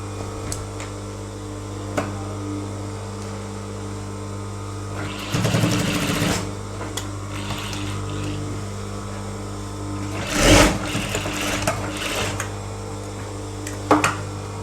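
A sewing machine stitches an elastic trouser for a small child, its steady motor hum running throughout, with a few louder bursts of rapid needle chatter and occasional clicks.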